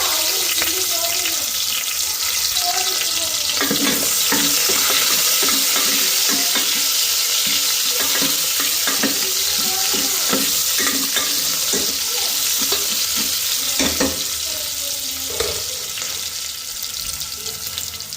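Onions sizzle in hot oil in a pan for a dal tempering, a steady bright frying hiss with stirring clatter and scraping breaking through at intervals.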